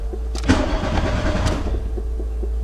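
An MK2 Golf GTI engine cranks and catches under restoration, a close, loud, rumbling low churn with a couple of sharp starter bursts before settling into a rough, steady running note.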